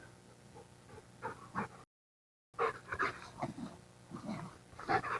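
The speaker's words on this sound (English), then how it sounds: "This is Dave's Jack Russell Terrier, Millie." Millie, a Jack Russell Terrier, snuffles and pants in short bursts with small whimpers, close and fairly quiet, with a brief silent gap midway.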